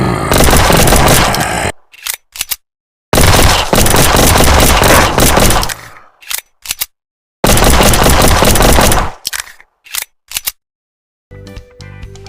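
Rapid bursts of automatic gunfire from a mobile horror shooter game blast loudly against zombies, in several long volleys broken by short pauses and single shots.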